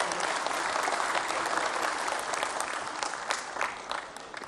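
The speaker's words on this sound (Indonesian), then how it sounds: "Tepuk tangan untuk puan kita" A party anniversary audience in Indonesia gives sustained, dense applause for women cadres, loud and steady, fading slightly near the end.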